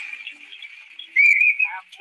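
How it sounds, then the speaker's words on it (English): A person whistles a short tune, a thin high melody that starts soft, swells louder in the middle with a gliding phrase, then trails off near the end. "Give a whistle."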